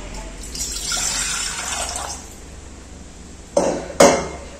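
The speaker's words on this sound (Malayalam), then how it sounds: "നമുക്ക് വേണ്ട വെള്ളം ഒഴിച്ചു കൊടുക്കാം" Water pours into a cooking pot set on a gas stove, a loud gushing splash for a couple of seconds that fades out, followed by two sharp metallic clunks of the pot or vessel.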